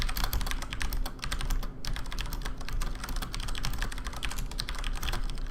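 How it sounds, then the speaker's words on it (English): Rapid, steady typing on a mechanical keyboard, with dense, sharp key clacks filling the whole stretch at close range and no voices. "Now that is a mechanical keyboard."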